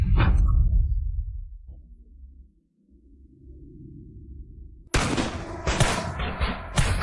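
A volley of gunfire in a fictional ancient famine-stricken village: a heavy boom fading out, a quieter lull with a low rumble, then a loud burst of several overlapping sharp shots near the end.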